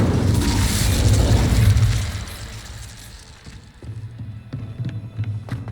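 Spell explosions from Confringo and Incendio in Hogwarts Legacy gameplay: a loud, rumbling boom that swells and fades over two seconds, followed by quieter crackling pops and a second lower rumble.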